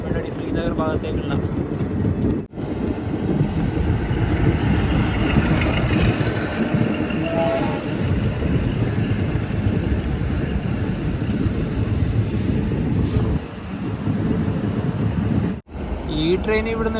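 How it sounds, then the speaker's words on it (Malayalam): A train travels through the snowy Kashmir valley on the Srinagar to Katra line, producing a continuous heavy rumble and rattle of rolling carriages. The din dips briefly a couple of times, with muffled voices at moments. "ഈ ട്രെയിൻ ഇവിടുന്ന് എടുത്തിരിക്കുകയാണ്."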